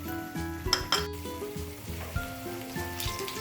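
Chicken pieces tossed with a thin cornflour gravy in a pan, with a spatula clinking and scraping against metal over a soft sizzle, all sitting under steady background music.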